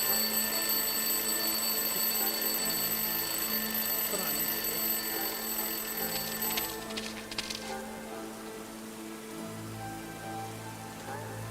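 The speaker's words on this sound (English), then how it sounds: "Okay, I'll place the alarm clock in the rubbish bin. Let's see what happens when it goes off." An alarm clock rings steadily inside a rubbish bin in a video game, a continuous buzzing tone over soft rain-like ambience that cuts out partway through, leaving quieter background.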